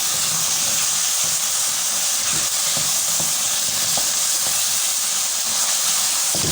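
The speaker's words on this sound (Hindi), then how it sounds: "हम इसको तब तक भूनते रहेंगे जब तक कि जो ऑयल है वो ऊपर आ जाए।" Sarson ka saag fries in hot oil with a loud, steady sizzling hiss, dense and continuous, with faint bubbling pops beneath it.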